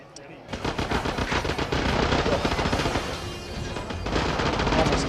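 Rapid automatic gunfire from the PS Vita shooter Resistance: Burning Skies, sustained loud bursts firing almost continuously with brief gaps, crisp and close in single-player combat.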